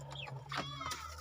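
Spotted young hens, about three months old, cluck and chirp close by in a short, soft burst of bird calls over a low steady hum.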